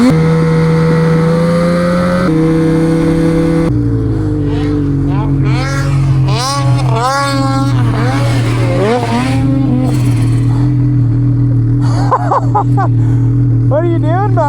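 Snowmobile stuck off the trail, its engine droning and shifting pitch in steps, loud and close, while voices talk over it at length.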